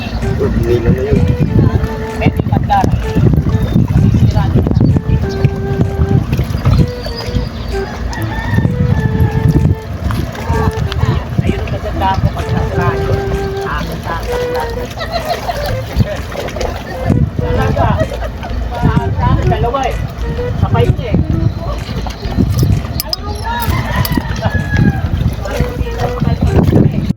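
A boat approaches on a dark river crowded with water lilies, its motor droning steadily under wind noise and water sounds while people talk nearby throughout.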